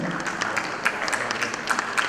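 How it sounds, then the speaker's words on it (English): Crowd applause at a certificate ceremony for an echocardiography fellowship programme: continuous clapping from a seated audience with some crisp, distinct hand claps popping through, moderately loud and unbroken for the whole stretch. "Big round of applause again."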